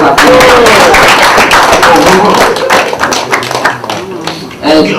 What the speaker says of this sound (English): Let's give him one round of applause.